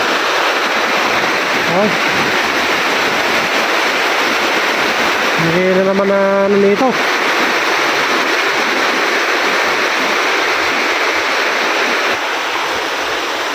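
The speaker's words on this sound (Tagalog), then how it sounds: "Malakas ng ulan" Heavy rain pours down in a dense, steady roar over flooded fish ponds and rice fields, with a voice speaking briefly midway through.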